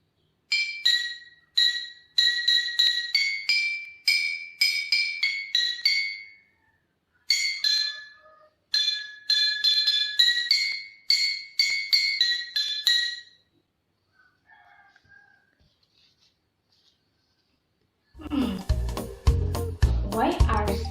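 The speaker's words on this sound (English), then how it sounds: "when we tap the bottle using this spoon" A spoon taps glass bottles of differing pitch, ringing out a clear, melodic run of bright clinks in a quick tune, pausing briefly before a phrase of louder, fuller music enters at the end.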